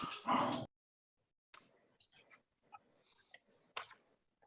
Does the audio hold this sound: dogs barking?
yes